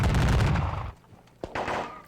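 Infantry volleys in a Seven Years War strategy game, a loud dense burst of musket fire that cuts off, followed by a brief sharp crack and a second shorter crackle of shots.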